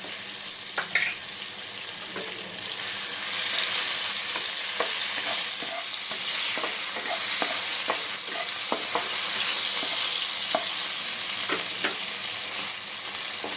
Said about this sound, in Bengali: টমেটোটা দিয়ে দিচ্ছি হালকা একটু লবণ দিয়ে দিই টমেটোটা নরম হয়ে যাবে